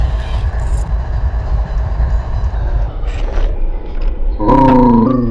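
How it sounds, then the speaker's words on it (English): A train passes close by, a steady low rumble and rolling clatter that fills the clip, with a brief louder tonal screech or horn-like wail near the end. "Sorry about the noise. There's a train over here."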